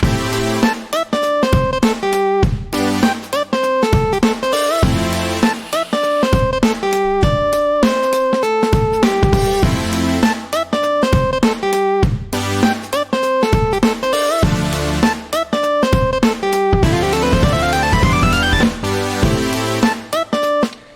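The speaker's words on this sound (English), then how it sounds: "I've got a chord synth, I've got a lead synth, and then I've got some drums." Funky electronic track layering a supersaw chord synth, a bright lead synth line and punchy drums, playing continuously and loud with steady rhythmic chord stabs throughout.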